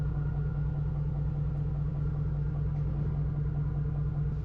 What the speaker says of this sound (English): for those of you that hear my engine running